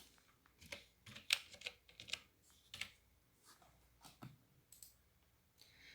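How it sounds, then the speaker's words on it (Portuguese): Keys clicking on a computer keyboard as a number is typed, with a handful of quick, light taps spread irregularly across the stretch, fairly close and quiet, with no talking. "Então a gente vai digitar um número aqui."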